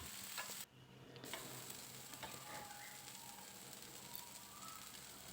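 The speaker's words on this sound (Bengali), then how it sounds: "ডিমটাকেও সবজির সঙ্গে একটু ভালো করে ভেজে নিচ্ছি।" Egg and vegetables fry in a pan for instant Maggi noodles, a steady soft sizzle with faint stirring scrapes running throughout, fairly quiet and without voices.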